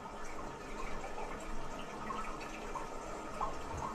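Plumbing water runs steadily in a clogged drain setup, a soft, even hiss and trickle with faint drips, continuous throughout at low level.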